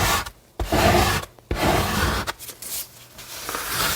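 A plastic bench scraper rubs and scrapes bread dough and leftover flour off a kitchen counter while making whole wheat baguettes, in several short rasping strokes separated by brief pauses, close by with no talking.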